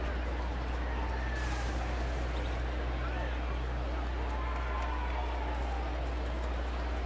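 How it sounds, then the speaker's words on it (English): A big crowd at a night baseball game between the Royals and the White Sox in Kansas City fills the stadium with a steady, distant hubbub and murmur, and faint voices run under it throughout. "Big crowd watching tonight as the Royals lead 2-1 in the top of the 5th inning"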